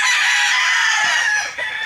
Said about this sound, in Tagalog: Ang dami talagang manok dito.